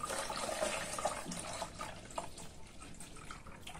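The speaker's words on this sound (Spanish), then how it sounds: "añadimos el agua en nuestro recipiente." Water is poured into a container while calibrating a RAPT Pill hydrometer, a quiet close trickle and splash that gradually thins and fades toward the end.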